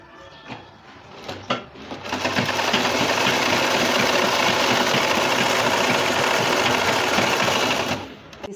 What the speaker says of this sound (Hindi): इसी तरह दोनों पायचे पे सिलाई लगा लेंगे।